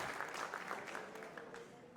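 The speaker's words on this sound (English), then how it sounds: "Let's give the newlyweds a big, huge round of applause." Wedding guests applauding the newlyweds at an evening reception, a faint, distant patter of many hands clapping that continues steadily and thins slightly toward the end.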